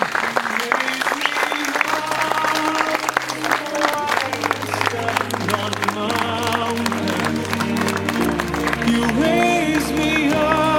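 Wedding guests applaud the witnesses as they enter, sustained clapping and some cheering blended with loud music playing throughout.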